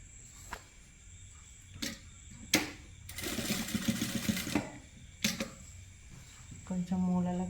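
A sewing machine stitches a lavender blouse. A few sharp isolated clicks are followed by a sustained burst of rapid mechanical stitching, then more scattered clicks and a short whirring run near the end, all close by in a quiet room.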